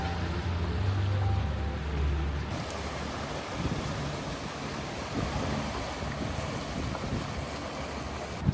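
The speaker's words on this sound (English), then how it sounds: "The wind's more than it was supposed to be." Strong wind buffeting a sailboat at sea during a three-day passage, a steady loud rush of wind noise and water with low rumbling gusts throughout.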